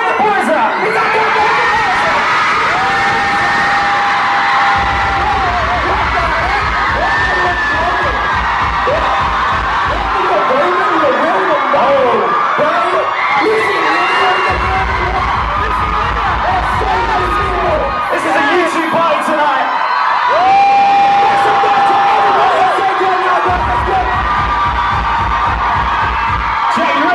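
Concert crowd at a live show in the O2 Academy Islington, cheering and shouting continuously across the clip, loud and dense, with a pounding bass beat thumping in short bursts beneath the noise.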